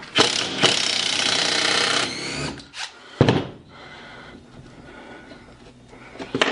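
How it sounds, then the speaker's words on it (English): A power tool whirs loudly for about two seconds while backing bolts out of the top of a wooden machine crate, followed by shorter bursts, a clatter and quieter handling noises. "So I'm just removing the bolts here on the top."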